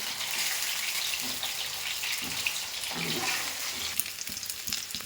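Chicken balls frying in hot oil, a constant close sizzle with occasional stirring scrapes and soft clinks.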